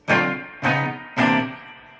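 Three strummed electric guitar chords of a familiar chord shape, moved a half step down, in a rhythm guitar lesson, each struck firmly and left to ring briefly, close and alone.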